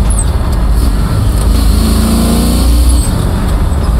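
A 1969 Chevrolet Camaro SS V8 rumbles loudly and steadily through a downshift, its low engine note rising and falling up close with no talking.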